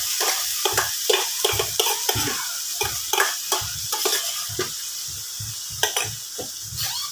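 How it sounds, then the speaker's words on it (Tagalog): Mung beans stirred in a pot for a Filipino munggo dish, a spoon scraping in quick repeated strokes over a steady sizzle, close and clear with no voices. "Mix na natin yung munggo."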